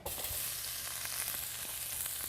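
Food frying in oil in a skillet while pork chops are cooked with onions, a steady close sizzle with faint crackles running through without break, no voices.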